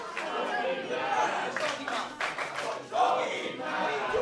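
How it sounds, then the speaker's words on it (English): A crowd at an Overdrive Championship Wrestling show chants for James Ellis, rhythmic shouted voices rising and falling in bursts amid general crowd noise and some clapping. "The crowd chanting for James Ellis, but not in the way that he wants to be chanted for."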